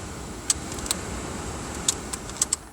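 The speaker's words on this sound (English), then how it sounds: "So all the fans are working, all the speeds are working for the fan." A Rover 214 Cabriolet heater fan blows a steady, even whoosh inside the car. A few sharp clicks from the controls break through the hiss at irregular moments.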